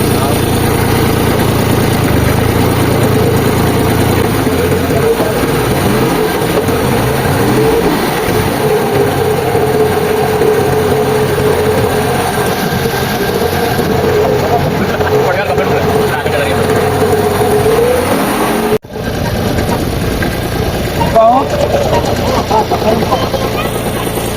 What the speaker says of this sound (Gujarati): ટ્રેક્ટર ચાલુ કરતા ઓટો મારતા આવીએ